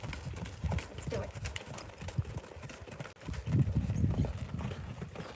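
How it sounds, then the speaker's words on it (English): A horse canters with rhythmic hoof beats, thudding close by over ground, while a person talks over the steady gait. "We're in a canter, just a small one"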